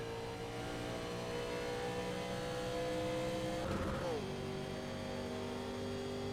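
Steady NASCAR engine drones at Talladega in iRacing hum at a moderate level, with a brief pitch sweep as a car revs and shifts, continuous throughout with no voices.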